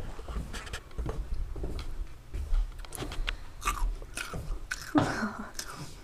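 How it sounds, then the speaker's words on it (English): A dog chewing noisily close by, with irregular crunching and biting sounds repeating across several seconds, and a few soft human sounds around them. "Oh God, stop chewing."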